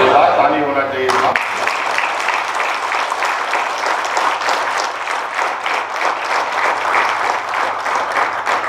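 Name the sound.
audience applause at a ceremony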